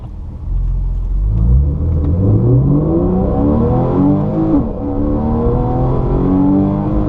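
A loud race car engine revs up through the gears at Laguna Seca, pitch climbing, dropping at a shift, then climbing again, close and continuous.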